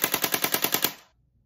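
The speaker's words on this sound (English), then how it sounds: "The full auto is even powerful enough to make the sling connection shake when it's shooting." An AK-47 style BB gun firing on full auto, a rapid even burst of about nine sharp cracking shots in roughly one second, then abrupt silence.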